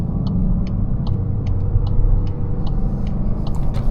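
A Golf GTI 380 accelerating hard on the road, its engine and valved exhaust giving a strong, steady low rumble that swells slightly mid-pull, with faint regular ticking above, heard from inside the car without talk.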